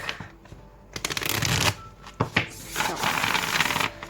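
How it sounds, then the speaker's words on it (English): A deck of tarot cards is shuffled by hand at close range, with quiet riffles and snapping bursts between short pauses. "If you don't want to see the shuffling"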